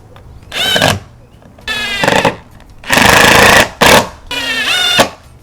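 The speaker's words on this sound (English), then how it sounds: "You just have to screw in 3 screws." A power screwdriver drives screws into the plastic base plate of an Arlo Pro 3 floodlight camera in several loud whirring bursts, each a second or so long, separated by brief pauses.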